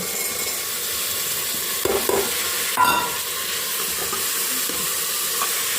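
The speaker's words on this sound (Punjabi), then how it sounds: "ਥੋੜੀ ਜਿਹੀ ਹਰੀ ਮਿਰਚ ਭੁੰਨ ਲਈਏ ਉਸ ਤੋਂ ਬਾਅਦ ਪਾ ਦਨੇ ਆਪਾਂ ਹੁਣ ਪਿਆਜ਼" Green chillies and onions roasting in a pan give a steady close sizzle and hiss throughout, broken by a few brief clatters of stirring.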